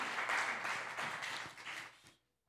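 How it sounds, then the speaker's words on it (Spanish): A congregation in church applauds for about two seconds, a dense burst of clapping that fades and cuts off abruptly into silence. "Give a big round of applause to the Lord"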